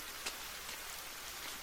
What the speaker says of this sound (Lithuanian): oi, kaip lyja